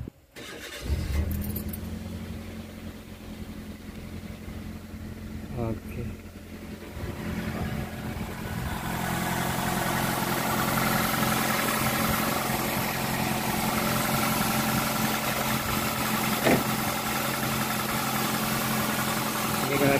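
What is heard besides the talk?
Toyota Avanza engine starting then idling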